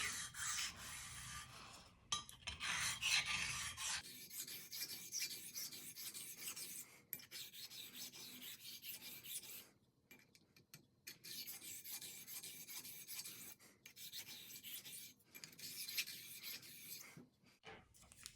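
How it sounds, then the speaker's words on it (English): Straight razor, a GD, ground on a fast-cutting hone, giving a harsh, rasping scrape in repeated strokes with short pauses between passes, close and fairly quiet. "I think this is a nasty sound because you actually grind much faster with this one."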